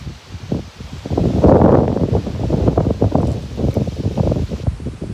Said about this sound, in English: Wind gonna blow you guys over